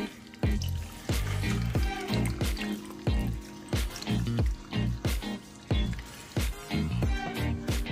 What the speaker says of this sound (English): Now we just take some of this marinade and just pour it over the top.